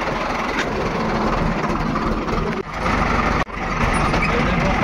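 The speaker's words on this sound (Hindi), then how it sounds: "हमारा ट्रैक्टर हो चुका है गड़प्पू गेट से पार।" A tractor engine runs with a loud continuous rumble, steady and close, with two brief dips in level and no talk.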